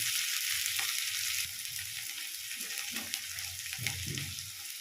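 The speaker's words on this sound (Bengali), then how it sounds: "পেঁয়াজটা আমি একটু লাল লাল করে ভেজে নেব" Onions for a spicy lote fish curry sizzle softly in hot oil, a steady quiet hiss broken by a few low stirring knocks.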